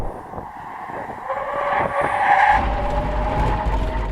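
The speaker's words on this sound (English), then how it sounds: "Now we're going to do a brake test from 70 miles an hour." A Tesla Cybertruck and a Hummer brake hard from 70 mph on a test course, making a rising tire squeal and skid noise under the rumble of the vehicles, loud and close.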